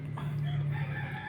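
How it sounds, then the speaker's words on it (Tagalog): A rooster crows in the distance, its drawn-out call steady and fairly faint against a low background hum. "At saka may tatlong manok"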